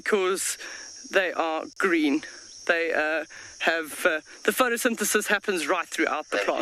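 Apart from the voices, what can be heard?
cicadas calling in South African bush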